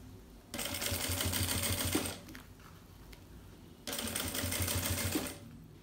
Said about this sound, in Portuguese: E agora é só costurar, fazendo aqui o nosso viés de acabamento.